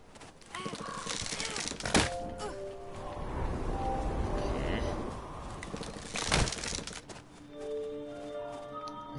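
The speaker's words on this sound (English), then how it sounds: "I know I heard an owl somewhere" Soft owl-like hooting calls in the video game Never Alone, drifting through a busy game soundscape of wind and other effects, moderately distant and partly masked.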